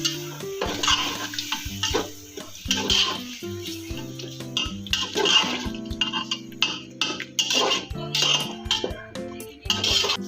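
Tomatoes frying in a pan for tahari, an Indian spiced potato rice dish, heard as a metal spoon clinking and scraping against the pan in an irregular rhythm over a soft sizzle, with faint background music and no talk.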